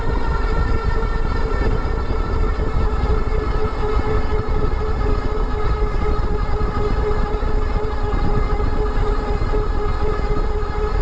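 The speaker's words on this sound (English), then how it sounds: "Right now I'm throttling. I'm going to help it with a little pedaling." A Luckeep M5 Max 52V ebike with a 2000W peak rear hub motor runs under throttle, giving off a steady, loud electric whine with layered tones that holds constant throughout, with no talking.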